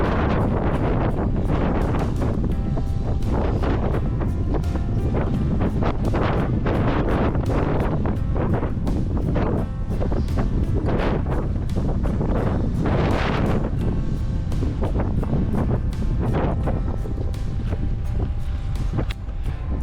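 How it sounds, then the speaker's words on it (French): Loud, continuous wind roars and buffets across the microphone throughout, with rough gusty bursts and no speech; a strong headwind on a straight stretch of the ViaRhôna cycle route between Saint-Martin-d'Ardèche and Aigues-Mortes. "c'est une ligne droite où le vent il est totalement de face"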